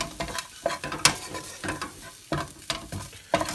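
Turmeric and tandoori masala powder frying in a pan, a close sizzle broken by repeated scraping stirs in an irregular rhythm.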